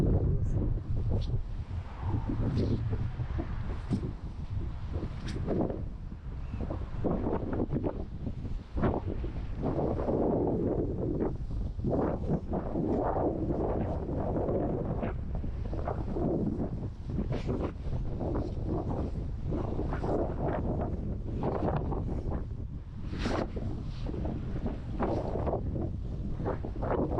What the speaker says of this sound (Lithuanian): Vėjas tai gal stiprus.